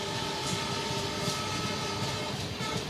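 The horn of the 13132 Mitali Express in a train simulation game sounds as a long, steady tone over the continuous rumble and rattle of the moving train near the Indian border.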